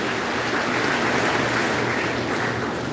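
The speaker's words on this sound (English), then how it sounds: "Give yourselves a round of applause" Graduates at a graduation ceremony give themselves a round of applause, a dense, steady wash of many hands clapping together throughout, loud and sustained without any talking.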